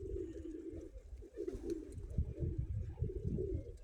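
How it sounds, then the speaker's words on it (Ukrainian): Pigeons coo continuously in low, throaty rolling calls, close by and overlapping, with no talking. "як голуби в зальоті, криються ще пачками"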